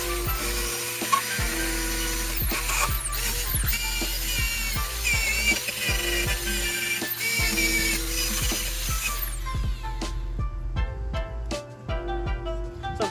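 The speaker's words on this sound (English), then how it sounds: "I'm gonna take off some of the rust with this wire wheel" A wire wheel on a power tool grinds rust off the frame of a 400cc Yamabuggy dune buggy, a loud continuous whirring scour with rattling bursts that drops to sparser clatter near the end.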